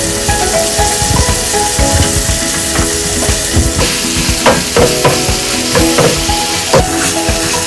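Pepper steak cooking in a hot pan, a continuous loud sizzle and bubble broken by repeated sharp clinks and scrapes of stirring utensils against the pan.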